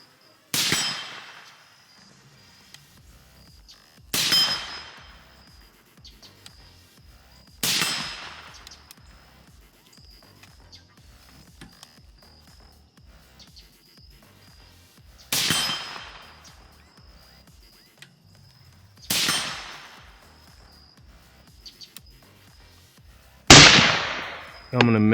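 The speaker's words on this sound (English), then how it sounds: "I'm gonna take some shots at the 50 with this thing flipped out of the way" Rifle shots fired at a 50-yard target at night using a night vision clip-on setup, five loud sharp cracks spaced several seconds apart, each followed by a decaying echo, with a further sharp metallic ring near the end.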